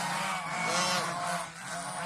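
Hungry geese honk and call noisily at close range, a dense overlapping chorus of nasal cries from a flock eager for food, continuous for a couple of seconds.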